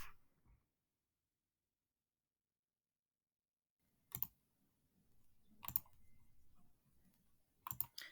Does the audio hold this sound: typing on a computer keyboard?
yes